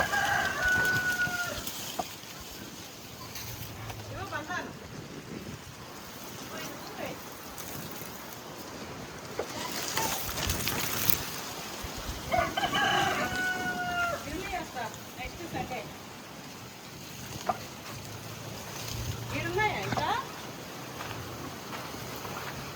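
Chickens cluck and a rooster crows intermittently around a farm where ducks are also kept, fairly distant, with a quiet outdoor background and voices in between.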